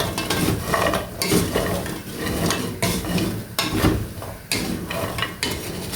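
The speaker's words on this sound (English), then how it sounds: "Mix well. Just continue mixing. Don't stop with your mixing," Wooden spoon stirring a milk mandazi batter of sugar crystals in a bowl, steady repeated scraping strokes close up, loud and continuous with rhythmic bursts and clinks, no voices.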